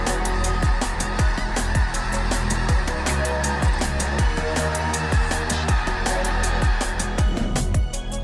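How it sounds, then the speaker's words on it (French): Thousands of migrating snow geese honk in a dense, continuous chorus across the Skagit Valley, with many overlapping calls close by and farther off, loud and steady throughout. "Des milliers d'oies des neiges migratrices dans la vallée de Skagit"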